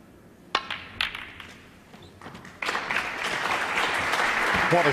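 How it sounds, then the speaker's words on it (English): A snooker audience at the 2009 Grand Prix breaks into applause after a few sharp ball clicks, the clapping swelling into a steady, dense round that carries to the end. "Generous round of applause."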